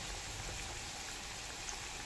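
Corn pakode frying in a pan of hot oil over a medium-high gas flame, giving a steady, soft, even bubbling sizzle with no pauses.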